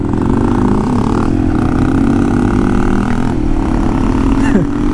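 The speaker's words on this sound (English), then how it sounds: "Little strain on the engine at that speed, but can handle that." Yamaha TW200 motorcycle engine running steadily at about 55 mph on a fast road, a loud continuous droning hum with wind rush and a slight pitch rise midway.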